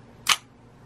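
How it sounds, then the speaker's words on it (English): A vintage film camera fires once, its leaf shutter snapping and mirror flipping up in a single sharp, close click against quiet room tone. "It has a leaf shutter and a mirror that flips up."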